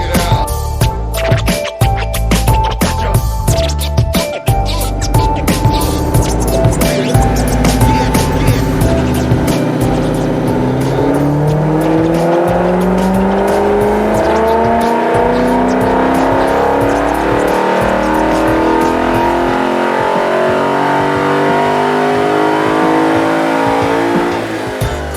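A high-mileage Lexus IS-F V8 with K&N panel filter, stock headers and an X-Force catback exhaust with muffler delete, revving hard in sharp bursts, then a long loud rising pull that sweeps upward and holds, close and aggressive.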